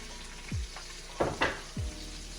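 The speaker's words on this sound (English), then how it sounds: "I'm gonna get the mushrooms in this hot pan first" Mushrooms sizzle in a hot pan, with a steady frying hiss broken by a few sharp crackles and bursts as they are moved around.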